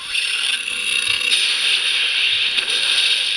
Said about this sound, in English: It's a lockup.